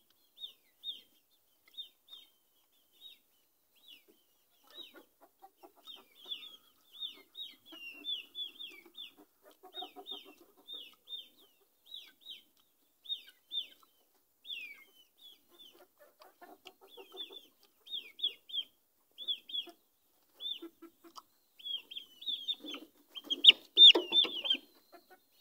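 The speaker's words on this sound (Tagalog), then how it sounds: "Pasensya na mo sa among mga manok guys" Backyard chickens cluck repeatedly in short, scattered bursts, fairly quiet and spread out, with a livelier cluster of calls near the end.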